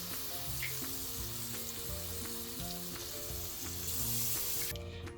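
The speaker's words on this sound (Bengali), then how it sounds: "এবার যে চালটা ফুটিয়ে রেখেছিলাম সেটা অল্প অল্প করে তরকারির ভিতরে দিয়ে দিচ্ছি।" Cooked rice is stir-fried with fried vegetables in a wok for a vegetarian fried rice, giving a steady, loud sizzle with repeated scraping and tossing strokes throughout, and no voices.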